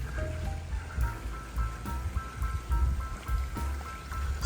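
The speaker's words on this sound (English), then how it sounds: "is all these fountains everywhere" Water splashes steadily in town fountains in Bietigheim-Bissingen, Germany, a continuous outdoor rush and trickle with faint knocks and street noise mixed in.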